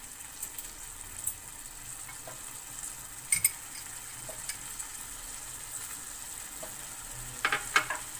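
Spice powders being stirred into food frying in a pan while cooking kata kat, with a soft steady sizzle and a few light metallic clinks of a utensil against the pan.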